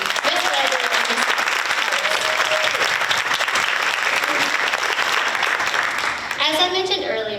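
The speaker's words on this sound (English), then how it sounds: "can we please give a round of applause one more time for Matthew, Bella, Zoe, Miss Weber, and Miss" Sustained applause from a school ceremony audience for student performers, dense and steady clapping throughout, with a voice speaking over it near the end.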